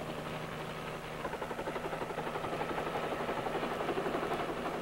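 A Marine helicopter flies overhead, its steady engine whine and broad roar building into a rhythmic rotor thumping that stays loud and even throughout.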